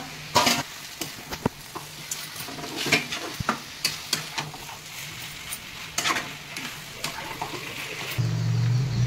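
Cashews, raisins, nuts and chickpeas frying in oil in a pan while being stirred, a steady close sizzle broken by repeated scraping and clinking strokes of a spoon against the pan.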